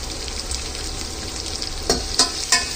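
Chopped onions fry in hot oil in a pan with a loud, steady, close sizzle, broken by a few sharper crackles and stirring scrapes toward the end.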